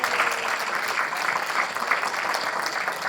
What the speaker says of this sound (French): Alors, les applaudissements